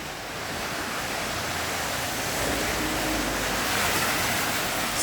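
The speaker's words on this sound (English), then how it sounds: "There's a bit of water flow." Water flows in a steady, broad rush during rain at a road works site, swelling slightly louder midway and staying continuous with no voices.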